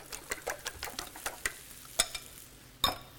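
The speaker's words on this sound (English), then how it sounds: "And then all you do now is you beat up the eggs." Eggs seasoned with pepper and salt being beaten with a utensil in a bowl, a steady series of light, quick clicking taps close by, fairly quiet, with no talking.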